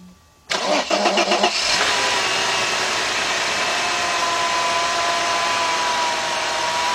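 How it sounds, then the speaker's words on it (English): A 1997 Mercedes-Benz E320 W210 with the 3.2 engine cranks briefly with a whirring starter, then catches and settles into a steady, close, loud idle that holds to the end. "Look at that engine run."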